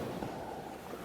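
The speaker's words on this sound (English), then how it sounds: "The waves of the ocean." Ocean waves roll and wash in a continuous broadband surf hiss with a low rumble, heard alone for a brief moment.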